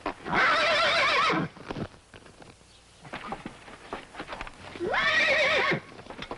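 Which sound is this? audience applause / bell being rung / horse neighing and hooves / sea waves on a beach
horse neighing and hooves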